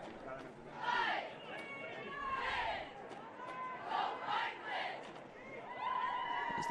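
A crowd of fans at a 2022 All-Star high school football game cheers and shouts in swelling waves, distant and diffuse, under a commentator's voice.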